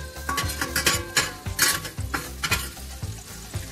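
Onion for pork goulash sautés in a pan with a close, lively sizzle, broken by repeated rhythmic scrapes and clinks of a utensil stirring against the pan. No one speaks.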